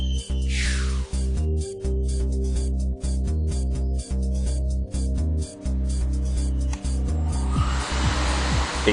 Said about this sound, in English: A crosswind was simulated by an industrial fan.